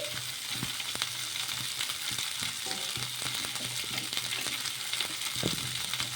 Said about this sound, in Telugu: ఇలా గోరు చిక్కుడు అనేది వేసేసుకొని ఈ ఆయిల్లో కొద్దిసేపు ఫ్రై చేసేసుకోవాలి.